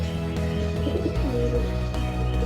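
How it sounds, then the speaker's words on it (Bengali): Pigeons coo softly and steadily in a farmyard kept with chickens, their low murmurs sitting under constant background noise, with no voices. "হচ্ছে পায়রা।"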